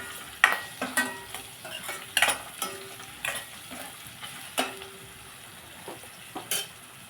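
Eggs cooking with spinach, potato and onion curry in a pan, stirred with a utensil: a series of sharp scraping clacks at irregular intervals over a low sizzle, with no talking.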